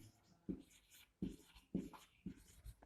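A teacher writes on a board during a chemistry lesson: four firm, evenly spaced scratching strokes, close and fairly quiet, with no speech.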